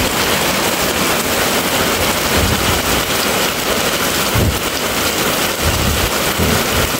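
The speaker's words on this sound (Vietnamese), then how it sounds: "Còn mưa kéo dài lần trời, ông trời ông còn đen lắm." Heavy early-season rain pours steadily in a broadband roar, with low rumbles of thunder surging now and then, loud and continuous in rural Hau Giang, Vietnam, with no talking.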